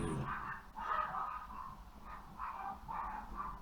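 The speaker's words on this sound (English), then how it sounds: "the dogs are barking" Dogs bark in a string of repeated bursts, moderately loud and slightly distant, with no talking over them.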